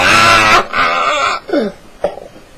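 A person sick with a virus coughs hard and raspy several times in quick succession, close up, bringing up phlegm, ending with a strained throat-clearing and a short gasp.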